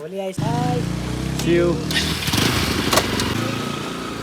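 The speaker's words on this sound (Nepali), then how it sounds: "भीमदाई चाहिँ अब घर जानुहुन्छ भीमदाईको एनएस बाइक हो" A Bajaj Pulsar NS motorcycle engine revs and pulls away nearby, its pitch rising and shifting, with a voice talking over it at the start.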